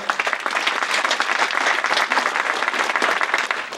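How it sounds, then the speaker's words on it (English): Steady, dense applause from an audience at a mayoral candidate forum held in a library, filling the whole span at an even, fairly loud level with no talk over it. "Let's give them a round of applause."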